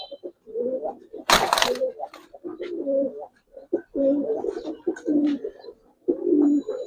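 A Giribaz female pigeon just released gives repeated throaty coos in close, loud phrases with short gaps, broken early by one sharp burst of noise.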